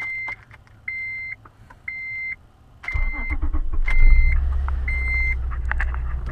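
Acura with automatic transmission: a repeated electronic chime beeps steadily inside the car as the engine turns over and settles into a low idle rumble, no talk.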